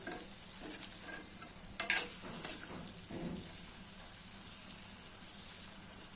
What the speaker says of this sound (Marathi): तेल सुटतपर्यंत छान शिजू द्यायचं